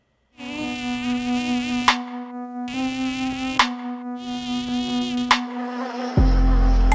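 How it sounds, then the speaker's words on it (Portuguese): Mosquitoes buzz in three sustained, close, whining bursts with short silences between, ending in a lower, steadier hum; no voices. "Os mosquitos andam incomodando muito e não só os cachoeirenses."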